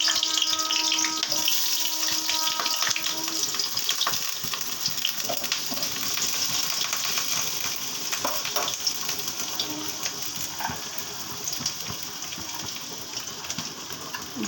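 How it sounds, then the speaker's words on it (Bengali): Pieces of pointed gourd (potol) fry in oil in a kadai, making a loud, continuous, close hiss and crackle that slowly eases over the span, with no talking. "প্রথমে পটলগুলো কড়াতে ছেড়ে দিলাম।"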